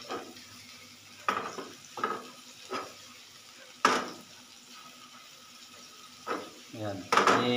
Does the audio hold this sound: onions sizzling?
yes